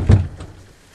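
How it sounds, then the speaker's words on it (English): An airsoft door set up with a trip mine is shut, giving a single close, loud thud that fades quickly into quiet. "We shut the door."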